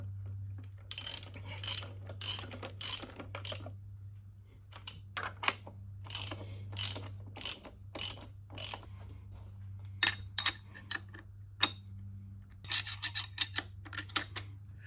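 Clamping nuts on a milling machine overarm bracket are tightened with a ratchet, giving repeated bursts of crisp metallic clicking in short, uneven groups over a steady low motor hum, close by and with no talking.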